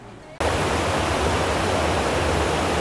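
Waterfalls at Ducha de Prata in Campos do Jordão roar as a steady, loud broadband rush of falling water that starts abruptly after a brief quieter moment and continues unbroken.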